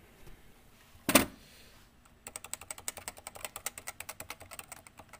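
Typing on a Cooler Master CMStorm Novatouch TKL keyboard with Topre switches, a steady quick run of close, even keystrokes after one sharp knock and a moment of quiet.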